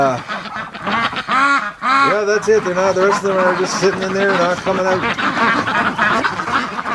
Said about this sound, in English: the ducks quacking. They're unbelievably loud.